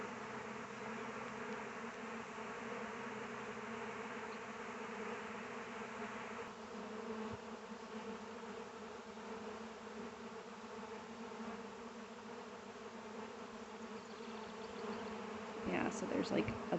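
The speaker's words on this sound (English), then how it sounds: "there's like a bunch of little bees on these branches, and then that's where everybody's going." A dense, steady drone of a swarming honey bee colony continues throughout, with a short louder rustle near the end.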